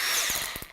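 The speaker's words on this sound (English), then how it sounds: "Now we're going to crank it to drill." A cordless power drill with a slip clutch, switched to drill mode, whirs at high speed nearby for under a second, with a few short dull knocks near the end.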